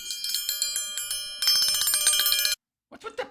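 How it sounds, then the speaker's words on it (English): A metal triangle is struck in quick repeated rings, then a dense sustained clattering roll that abruptly cuts off, followed by a brief burst of talk. "What's with the triangle?"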